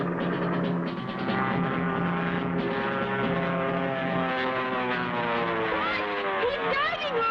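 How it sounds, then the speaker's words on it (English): Propeller drone of a cartoon airplane diving in, a continuous loud engine hum with rising, sweeping pitch toward the end, held steadily throughout with no break. "He's diving on us. I'll tie off the controls in level flight so the plane will fly itself."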